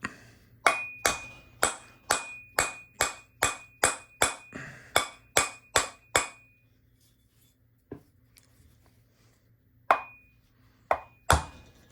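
A hammer taps a metal part of a Singer 401A sewing machine in a steady run of about sixteen sharp, ringing strikes. The strikes pause, then two or three more sound near the end, close and clear with no talking.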